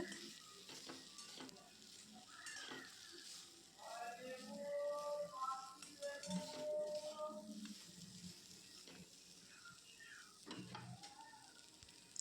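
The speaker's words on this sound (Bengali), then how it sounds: "আমি এটাকে একটু ভালো করে নেড়ে চেড়ে কষিয়ে নেব" Chicken being stirred and sautéed with turmeric and salt in a pan, a soft steady sizzle with scraping stirs, while someone talks over it throughout.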